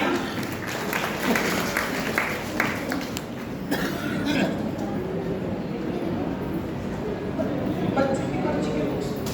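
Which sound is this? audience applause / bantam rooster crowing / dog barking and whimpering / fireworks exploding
audience applause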